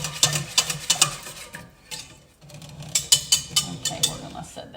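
A wire whisk beating French toast batter in a bowl, a quick run of sharp rhythmic clicks and taps against the sides, a short pause, then another rapid burst, close and fairly loud.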